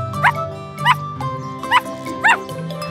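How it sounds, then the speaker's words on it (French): Four sharp, high puppy barks spaced roughly evenly apart, loud and close, over a low steady background hum. "Le chiot aboie très fort"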